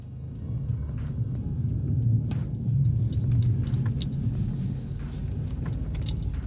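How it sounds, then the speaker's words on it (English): A car engine idles steadily outdoors in Whitehorse, Yukon, a low continuous rumble that swells slightly midway, with faint clicks and jingles on top and no talking. "So I thought let's start the car, let it get warmed up"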